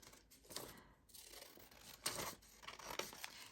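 Scissors snip through paper journal cards in a quiet room, several close, crisp cuts with brief rustling and sliding of paper between them.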